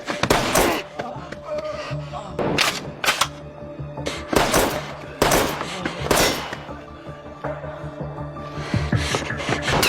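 Gunfire in a bodyguard action film scene, with several sharp broadband cracks at irregular intervals over a busy backdrop of music and effects, fairly loud throughout.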